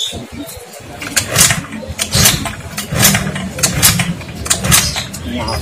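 A motorcycle engine starts and revs close by in uneven surging bursts, mixed with people talking.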